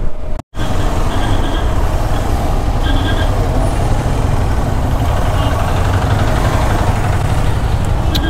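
At the start of a ride, a vehicle engine drones steadily and loudly up close. There is a brief dropout near the beginning, then a continuous, even rumble with no talking.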